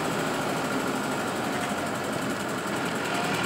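A tractor engine runs steadily with a dense, loud roar and rattle, continuous throughout and heard close up with no voices.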